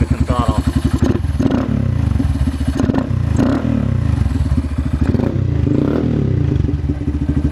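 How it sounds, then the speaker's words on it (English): A 2017 Honda Grom single-cylinder engine fitted with a Chimera cold air intake, idling with a rapid steady putter and rising in throttle blips, loud and close, while someone talks over it. "You can hear it go, like you hear it sipping the air when you give it some throttle."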